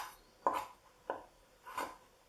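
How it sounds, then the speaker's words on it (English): A knife cuts through carrot pieces on a board, slicing them into thin battens about 1-2 mm thick, with three distinct crisp cuts at a slow, even pace. "you've got your piece of carrot. You just want to just cut those off"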